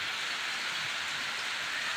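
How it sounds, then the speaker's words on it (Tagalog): Heavy rain pours steadily in a dense, hissing wash, unbroken and even throughout. "ang lakas ng ulan."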